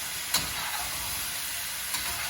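Tandoori tofu with garlic sizzling in a pan, a steady close frying hiss with a couple of brief clinks from stirring.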